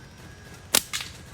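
Slingshot shots fired upward at mangoes high in a tree during a shooting-practice session: two sharp snapping releases in close succession, the second followed by a brief impact, all against a quiet outdoor background.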